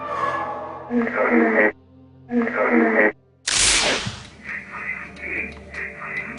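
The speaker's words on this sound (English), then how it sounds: "This is known as the electronic voice phenomena, or EVP" Radio static and hissing noise from an electronic voice phenomena recording, with bursts of distorted, voice-like sound separated by short silences, followed by a loud crackling sweep and warbling tones.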